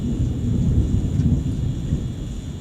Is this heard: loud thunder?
yes